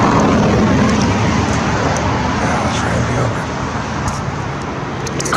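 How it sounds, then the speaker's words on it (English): A car drives along a street outdoors, a broad steady roadway rumble that stays loud and close throughout, easing slightly toward the end, with no voices over it. "Car came."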